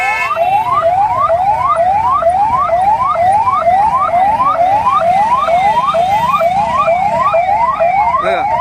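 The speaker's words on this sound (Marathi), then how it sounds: "पाठीमागून येणारी ही वसई विरार महानगरपालिकेची ॲम्ब्युलन्स ती सुद्धा अडकलेली आहे" A Vasai-Virar municipal ambulance stuck in a traffic jam on Ghodbunder Road sounds its siren, a loud, fast, steady wail repeating through the whole stretch with road noise beneath.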